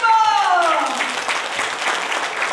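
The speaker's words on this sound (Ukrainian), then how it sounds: "Браво, товариство, вам оплески" Audience at a charity school concert for Mother's Day breaks into applause as a sung note fades, the clapping building into a steady, fairly loud patter that carries to the end.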